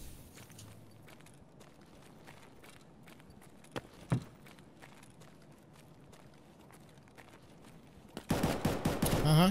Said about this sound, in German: Aha, Schüsse. Links.